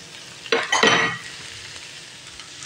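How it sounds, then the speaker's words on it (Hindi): Chopped capsicum and cabbage hit a hot pan and are stir-fried, two loud bursts of sizzle and scraping close together early on, then a quieter steady fry, without speech. "और इनको भी अच्छी तरह मिक्स कर लेंगे इन सब्जियों को इसके अंदर।"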